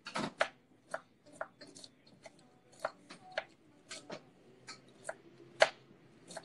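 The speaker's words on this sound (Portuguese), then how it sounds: "Depois vem picando em tirinhas" Knife chopping food into thin strips on a board, a series of sharp irregular taps, some in quick pairs, close and fairly quiet with faint background noise.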